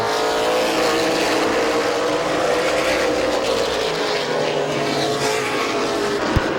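Race cars roar around the track at Midvale Speedway in a continuous, loud engine drone, several cars blending together at a steady distance, with a brief sharp knock near the end.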